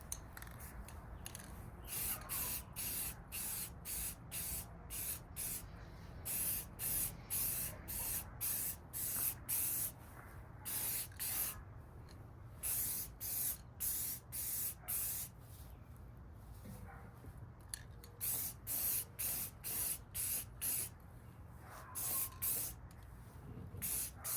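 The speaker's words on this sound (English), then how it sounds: "Well, let's get spraying." Repeated short bursts of aerosol spray paint hissing onto Kawasaki KE175 motorcycle parts, on and off in a steady rhythm, close up with a low background hum.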